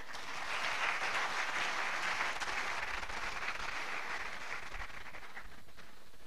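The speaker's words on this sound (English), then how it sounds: "can we give the founder of the university a round of applause?" A university lecture audience gives the founder of the university a sustained round of applause. The dense, even clapping runs unbroken for over six seconds and sounds somewhat faint and distant.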